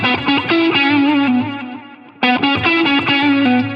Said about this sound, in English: To my ear, we are heavily attacking the strings.